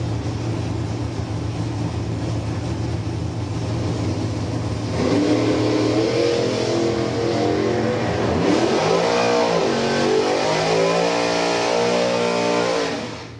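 Pontiac and Camaro cars revving at a drag strip event, a loud sustained engine roar that climbs in pitch with rising and falling revs through the middle and cuts off abruptly at the end.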